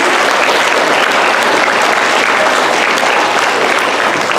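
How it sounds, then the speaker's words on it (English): A room full of people applauds steadily at a book launch in Delano, a loud, continuous wash of clapping with no talk over it. "let's give her a round of applause."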